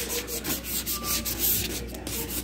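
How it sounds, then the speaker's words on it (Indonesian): Sandpaper rubs back and forth over paint on a Vespa scooter in quick, steady strokes, a close, continuous rasping sound. "pelan-pelan aja, nggak usah pakai tenaga, digesek-gesek aja amplasnya ya"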